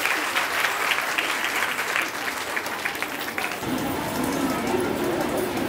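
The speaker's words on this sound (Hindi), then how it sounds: "कृपया जोरदार तालियों से सिस्टर का स्वागत किया जाए।" Audience at a Patna Women's College festival applauds a woman taking the stage, dense continuous clapping throughout that turns louder and fuller partway, with no talking.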